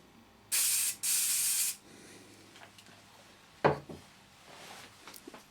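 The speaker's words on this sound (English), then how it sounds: "it's important to turn it upside down and spray it so that the nozzle doesn't block" An aerosol spray can held upside down to clear its nozzle while refurbishing brass door furniture gives two loud hissing bursts, one short and one longer, followed by quieter handling knocks and rustles.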